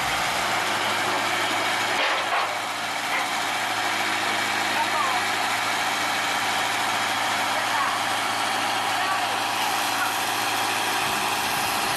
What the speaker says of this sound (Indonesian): Oke, lokomotif mulai bisa berjalan kembali untuk langsir lori-lori kosong ini.